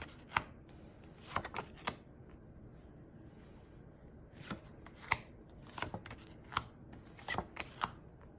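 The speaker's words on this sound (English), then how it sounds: "I just want to flip over some cards together" Tarot cards from a hand-made impressionist art deck being flipped over one after another, giving soft, brief slaps and shuffles at an irregular pace, quiet and close, with hushed pauses between them.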